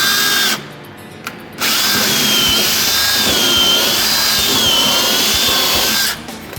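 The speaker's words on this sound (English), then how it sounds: "I'm gonna chase it out with a 5/16 bit." A power drill chases out a hole with a 5/16 bit in boat planking during a restoration, whirring steadily and loudly for several seconds after a brief opening burst, with a high tonal whine throughout.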